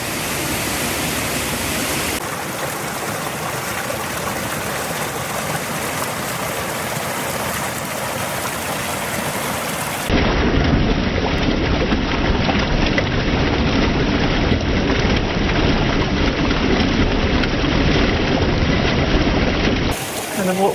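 Rushing waterfall along the Grasmere walkways in the Lake District, a steady broadband roar close by that swells louder midway as the falls are approached.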